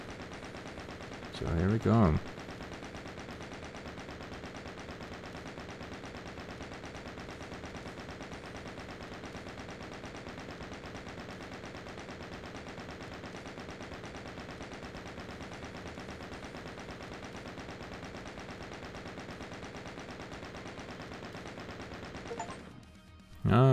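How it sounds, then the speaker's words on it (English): The chaingun in Doom (1993) fires continuously in a long, unbroken stream of rapid shots, steady and loud, with someone speaking briefly at the start and the end. "Shoot 200 bullets consecutively with the chain gun."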